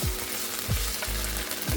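Curry paste sizzles in hot oil with garlic and onion, a steady broadband frying hiss with a few soft low scrapes or stirs, close and continuous, no voices.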